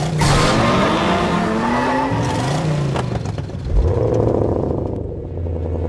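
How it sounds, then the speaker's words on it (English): A V8-engined car roars loudly and close, revving up and down with shifting pitch and a brief tire squeal, the engine note dipping and swelling again as it pulls away. "There's nothing quite like the sound of a V8 engine."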